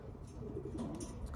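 Racing pigeons cooing at a loft, a brief soft low coo under steady background noise.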